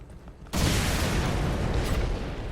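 A grenade goes off in the online shooter Ghost Recon Phantoms: after a quiet half second, a sudden loud boom gives way to a dense, sustained rumbling roar that fills the rest of the moment.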